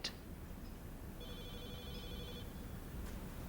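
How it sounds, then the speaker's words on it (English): A telephone ringing in a quiet room in a 2003 thriller film, one faint electronic ring pattern over a low steady background hiss. "That's my phone. You better answer it."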